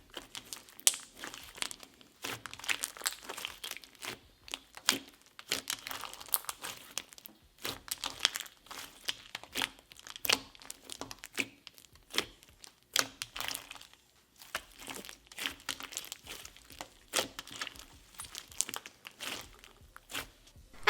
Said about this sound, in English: It's really clicky because you get the cereal base, but you also get the best of both worlds because those beads are really crunchy